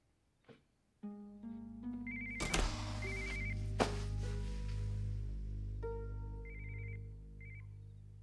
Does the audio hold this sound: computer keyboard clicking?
no